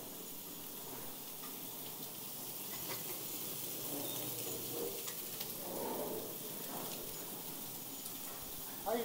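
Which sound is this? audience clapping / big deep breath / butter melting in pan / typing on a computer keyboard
butter melting in pan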